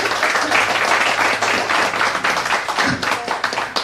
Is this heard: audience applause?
yes